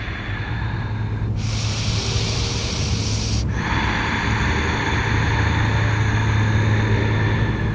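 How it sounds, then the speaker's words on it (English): Deep Ujjayi breathing through the nose with the throat slightly constricted. A long airy, rushing breath sound runs steadily for several seconds, close and loud, with a sharper surge partway through. "So Ujjayi breath, slightly constrict the muscles in the back of the throat."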